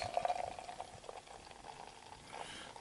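Barrel-aged 13.8% Taxman Death & Taxes beer is poured into a glass, producing a faint, close fizzing hiss that softly bubbles throughout.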